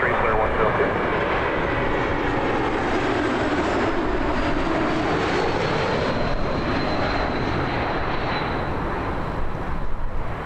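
Steady roar of an aircraft engine as a plane lands at Toronto Pearson Airport, a broad continuous rumble filling the whole stretch without pause.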